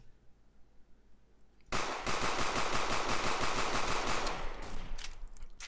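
Rapid pistol gunfire from the stealth video game Sneak Thief erupts after a quiet moment, a dense, loud string of sharp shots rattling on for several seconds before easing slightly.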